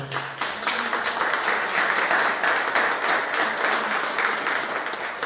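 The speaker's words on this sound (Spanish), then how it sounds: "Un fuerte aplauso para ella y empezamos." Steady, dense applause from a conference audience at the opening of a national and international writers' meeting, sustained and even for several seconds with no talk over it.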